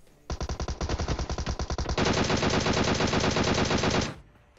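Rapid bursts of automatic gunfire in PUBG Mobile, first in distinct quick shots then merging into a dense continuous rattle, loud and close, stopping abruptly.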